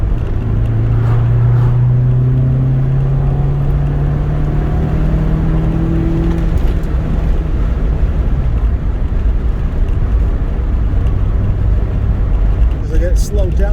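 Rover K-series car engine pulling in second gear, heard through an open window as a steady droning hum with rising and falling tones, sustained under road noise.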